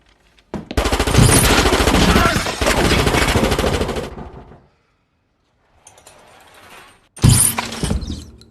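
Rapid bursts of automatic gunfire from the film No Country for Old Men, loud and close, a long volley, a quiet gap with faint rattling, then another sharp burst.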